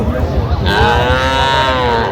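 Cattle at a village livestock market where young bulls and heifers are sold, a loud, close, drawn-out moo rising over a noisy crowd background.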